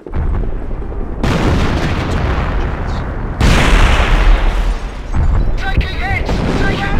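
A demolition charge blows in the WWII strategy game Company of Heroes: Opposing Fronts, Carpiquet mission: heavy, loud booms hit in two waves, each trailing into a sustained rumbling roar, with game voices mixed in.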